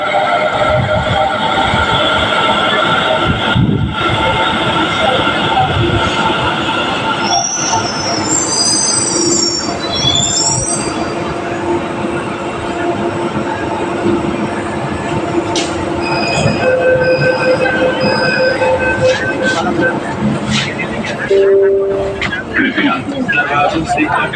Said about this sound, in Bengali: মিনিট পরে মেট্রো এসে গিয়েছে।